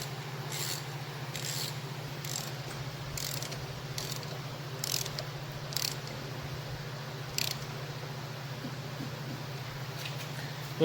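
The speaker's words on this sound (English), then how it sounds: "We tighten up the lower triple tree pinch bolt as well." Tightening the lower triple tree pinch bolt on a 1975 Norton Mk3 front fork, a steady mechanical ratcheting with repeated short clicks over a constant low hum, close and moderate in level.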